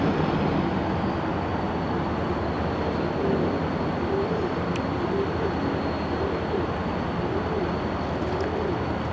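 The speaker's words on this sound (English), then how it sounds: "we're about to see a big mixed freight roll through" A long mixed freight train rolls through Denver's North Yard on Union Pacific tracks, a steady, continuous rumble and rattle of wagons at a moderate distance, with no talk.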